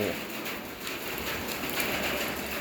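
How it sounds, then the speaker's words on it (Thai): Heavy storm rain pours down on a house in Laos, a dense, steady hiss of drops drumming on surfaces, close and continuous, with a voice faintly audible beneath. "หัวฝนสาด"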